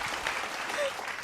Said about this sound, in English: Live claps.